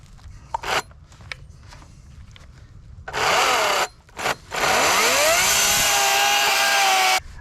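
Electric saw cutting into a leaning tree, short whining bursts of the motor followed by a longer sustained cut as the blade bites into the wood, close and loud with brief pauses between.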